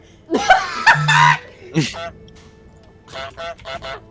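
A person imitates a goose with loud nasal honks, mixed with laughter and other voices during a livestreamed art session.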